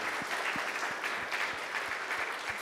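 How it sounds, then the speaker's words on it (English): An audience claps for a panel at the close of a conference event, giving steady, dense applause that carries on without a break. "Let's have a round of applause for the panel."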